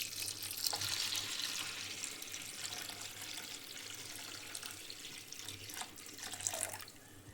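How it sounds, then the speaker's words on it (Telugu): Water poured into a kadai holding washed lentils, giving a steady rushing, splashing wash that runs nearly the whole time, close and fairly even, with a few brief clinks near the end and no talk. "వాటర్ యాడ్ చేయాలి."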